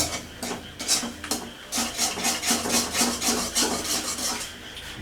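Bombay halwa of cornstarch and ghee stirred in a pan, with a utensil scraping and rasping against the pan in quick, repeated strokes at a low level, alone without talk.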